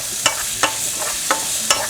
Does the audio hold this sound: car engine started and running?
no